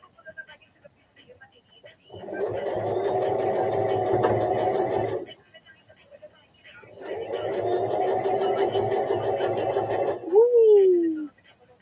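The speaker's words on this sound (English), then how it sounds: "I'm just back stitching over the top of the string just to secure it in place" A sewing machine back stitching over the top of a string: two steady, even runs of motor whirr and needle chatter, each lasting a few seconds with a short pause between them, ending in a brief squeaky whistle.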